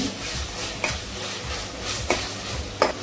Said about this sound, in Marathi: आता हा वाटण चांगला फ्राय करून घ्यायचा या तेलामध्ये.